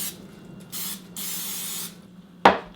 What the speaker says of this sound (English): I will go ahead and spray my hands